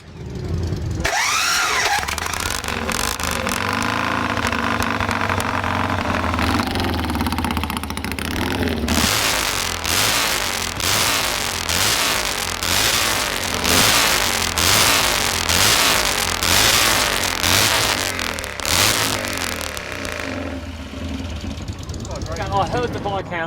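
A British Viscount motorcycle engine is started and revved, cranking and catching before settling into a loud, pulsing roar with repeated throttle blips; voices talk over the opening moments.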